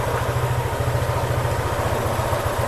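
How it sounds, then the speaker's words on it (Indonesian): A motorcycle engine idling steadily after being jump-started with a Keelat KCES01 portable jumper, a loud close, even pulsing rumble with no talk. "motornya hidup"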